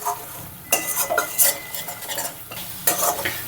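Cabbage curry cooked with cumin powder and a splash of hot water is stirred in a pan, giving bursts of loud sizzling with scraping utensil strokes in uneven pulses, without any talk.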